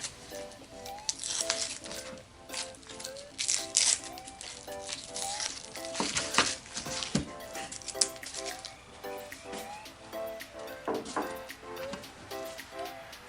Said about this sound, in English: I am just going to be cutting this one in half and cutting off the tips here, and I'm going to peel the rest of the onion